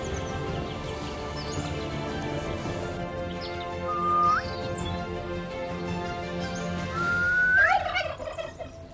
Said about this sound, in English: Chickens and turkeys move freely through the courtyards